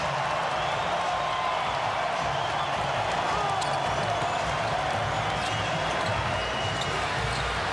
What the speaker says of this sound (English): This Toronto crowd rising to its feet.